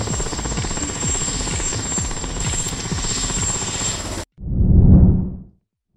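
An experimental compound helicopter based on the Eurocopter Dolphin AS365, with short wings added, flies with a steady rhythmic rotor thump and turbine whine for about four seconds. After a brief cut, a separate swelling whoosh passes by and fades to silence.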